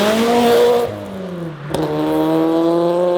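Turbocharged Subaru BRZ / Toyota 86 with an equal length turbo manifold and a blow-off valve, the engine revving up, dropping briefly as the throttle lifts with a short burst, then climbing steadily again, close and loud.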